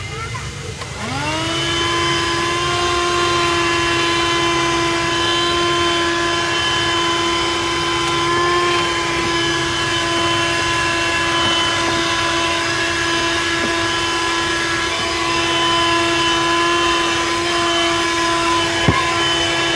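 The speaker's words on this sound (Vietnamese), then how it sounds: "Các bạn có thể dùng chiếc vòi này để hút bụi trong cốp xe nơi ờ, rất xa tay có thể với tới." A handheld 4-in-1 car vacuum cleaner that doubles as a tyre inflator runs continuously while sucking dust in a car trunk, starting up with a rising whine and then holding a loud, steady motor drone with a few faint knocks.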